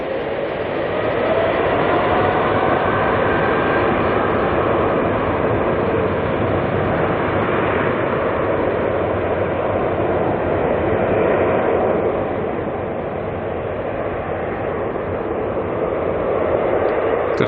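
A jet airliner with GE90 engines spools to takeoff thrust at night at Auckland Airport, a loud, broad, steady roar and rush that holds for the whole stretch with a slight dip and swell, no voices over it.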